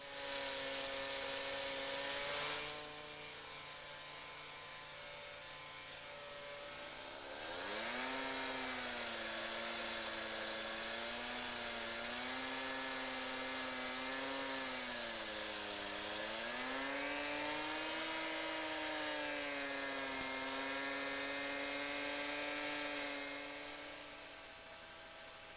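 A Husqvarna K950 petrol power cutter cuts into concrete, its engine screaming loud and continuous for the whole stretch, pitch sagging and rising as the blade bites deeper while cutting downward.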